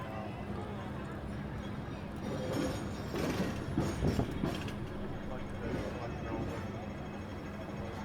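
A Hong Kong double-decker tram runs along its street track, a steady low rumble and mechanical rattle that swells slightly in the middle, with voices murmuring over it.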